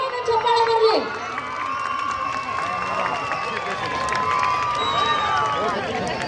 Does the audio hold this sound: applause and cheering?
yes